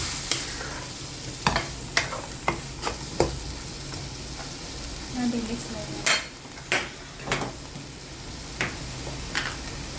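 Sweet potato porridge being stirred in a pot while seasoning, salt and MSG are added, with a spoon scraping and clinking against the pot in irregular close strokes over a low simmer, and no one talking.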